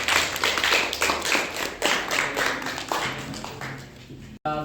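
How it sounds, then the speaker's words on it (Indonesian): A small group claps for a few seconds, with uneven bursts of applause that thin out and stop abruptly. "Beri aplaus untuk Mbak Eka ya"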